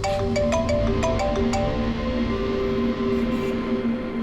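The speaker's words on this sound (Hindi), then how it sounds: "डॉक्टर सालुंकी का फोन था, हमें फॉरेंसिक लैब में बुलाया आशुतोष को लेके" A mobile phone ringtone rings for an incoming call in a crime-drama scene, a steady looping electronic melody of repeated tones playing loudly and alone throughout.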